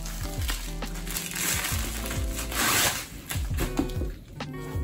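A mailed textbook package being unwrapped, with close, loud crinkling and tearing of packaging in irregular bursts across the whole stretch.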